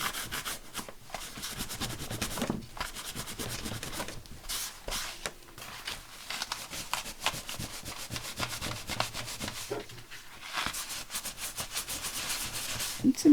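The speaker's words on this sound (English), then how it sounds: "let's get this towel out and get rid of all this blooming excess glue" A towel rubs excess Collall glue off a handmade paper mini album, giving steady, soft scrubbing and wiping strokes close by that run throughout with brief pauses.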